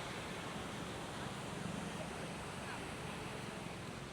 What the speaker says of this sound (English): I love to see the waves like that